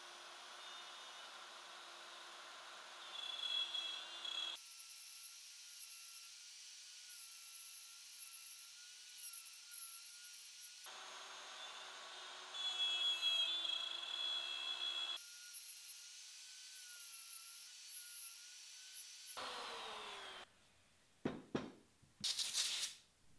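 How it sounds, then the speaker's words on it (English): Handheld router with a guide bushing and quarter-inch spiral bit cutting along a plywood template, loud high whine in several separate passes with pauses between, ending in a few sharp clatters. "I'm gonna use a handheld router with a guide bushing"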